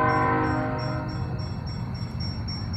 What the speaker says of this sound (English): That train, man. Train's crazy.